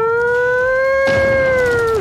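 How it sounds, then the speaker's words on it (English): A single evacuation siren from the video game Age of Empires IV, a loud, steady wailing tone that holds, then slides down at the end, with no talk. "Siren sound. They're running away."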